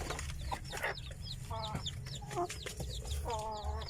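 Native chicken hens cluck in short repeated bursts among other chicken calls, with a low steady rumble of farmyard noise underneath.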